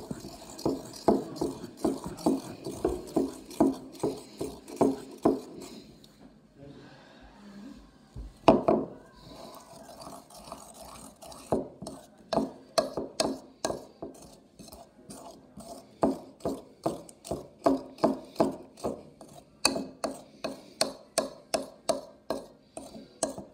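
Teaspoon stirring a thick baking soda mixture, giving quick repeated scraping clicks in steady bursts, with a brief pause and one louder knock partway through, close and fairly quiet.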